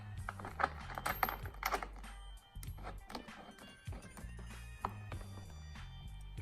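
Small metal nuts being threaded onto the rear axle of a single-seat First Drive ride-on jeep during assembly, heard as a quick run of close, light clicks and taps with brief scraping, no talking.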